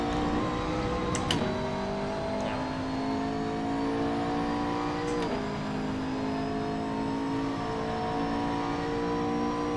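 Race car engine in Assetto Corsa, a Blancpain GT Series machine, holds a loud steady drone with two quick gear-change dips as the revs climb, close and constant throughout.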